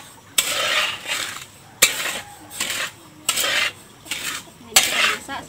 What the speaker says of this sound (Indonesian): ini kita masak sampai gulanya itu menjadi karamel ya teman-teman, mencair